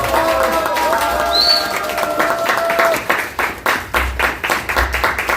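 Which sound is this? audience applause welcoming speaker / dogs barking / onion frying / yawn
audience applause welcoming speaker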